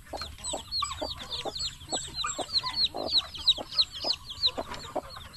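Chickens clucking steadily at close range, a busy run of short repeated calls with high chirpy peeps from chicks or small birds layered on top, no talk.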